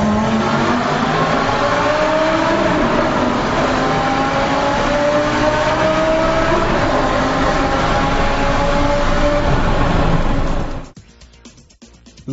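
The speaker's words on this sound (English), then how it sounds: "give it plenty in the low gears just to hear the exhaust note reverb back" A loud 2008 Lamborghini Gallardo Superleggera engine roars through the low gears, the exhaust note rising in pitch as it accelerates, then cutting off abruptly near the end.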